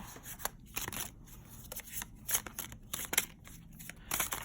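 Tarot cards riffled and shuffled close up, a quick run of crisp papery flicks and snaps in uneven bursts, fairly quiet and with no talk.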